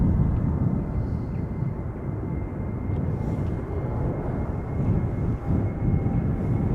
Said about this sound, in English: Going to Bergen, KLM flight 1185, 737-800.